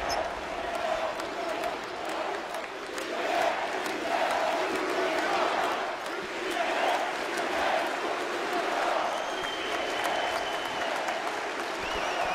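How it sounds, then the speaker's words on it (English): At a FIBA EuroBasket 2017 game between Turkey and Belgium, Turkish players applaud the fans while a large arena crowd claps and cheers continuously, a broad wash of noise with scattered shouts and a commentator's voice running underneath. "You see these Turkish players giving a huge round of applause to the fans"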